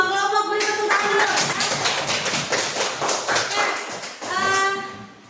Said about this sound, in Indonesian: Dari semua kelompok beri tepuk tangan dulu.